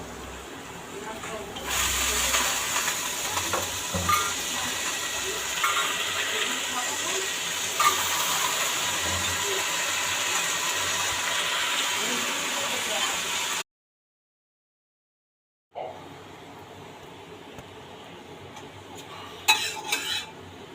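Chow noodles being stir-fried in a pan, a steady sizzling hiss with clinks and scrapes of the utensil for about thirteen seconds, a short silent gap, then more frying and clatter.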